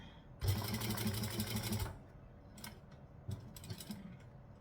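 A sewing machine runs a burst of top stitching through fabric, a close rapid mechanical whir lasting about a second and a half, followed by a few quieter clicks and short mechanism sounds.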